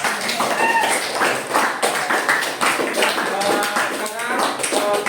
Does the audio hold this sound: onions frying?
no